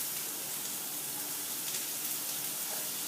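Shallots fry in a hot pan with a soft, even sizzling hiss that holds steady and close for the whole moment, with no talk over it.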